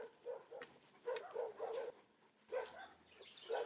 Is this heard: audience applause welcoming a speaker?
no